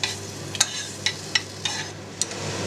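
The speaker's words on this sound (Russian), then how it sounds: "Наше винцо закипело, добавим вишню. И несколько минут проварим нашу вишню в вине." Cherries simmer in boiling wine in a pan, a steady close bubbling hiss broken by a regular series of sharp clicks and scrapes, with no voices.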